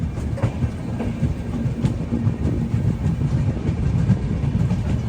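An AC Express train on the Delhi to Kashmir line, crossing from Punjab toward Jammu Tawi, runs with a steady low rumble and faint rhythmic clickety-clack of the wheels, continuous throughout with no voices.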